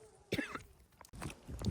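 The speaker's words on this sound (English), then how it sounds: "I started having a coughing fit." A person coughs and clears their throat in short harsh bursts, close and fairly loud, in two clusters separated by a brief pause.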